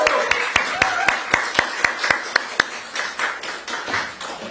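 Audience applause at a political press conference, a spaced rhythmic series of sharp claps at first, blending into a looser patter of clapping toward the end, moderately close.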